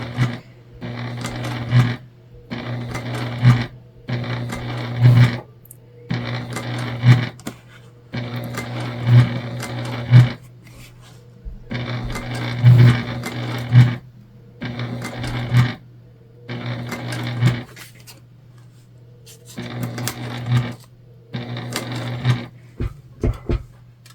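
Sewing machine stitching a tote bag handle with matching thread, running in about a dozen short, rapid bursts of whirring stitches separated by brief pauses, close and clear.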